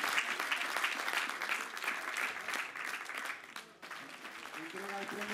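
A crowd applauds the second-prize winner at a quick-painting contest awards ceremony in Albelda de Iregua, with steady clapping that dips briefly and then continues as voices begin talking over it.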